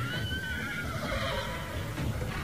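A horse whinnies and neighs in a drawn-out call over a busy background with faint hoof clatter.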